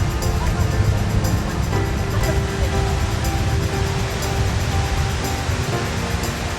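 Ocean waves wash onto a beach in a loud, continuous roar of surf, with faint voices in the background.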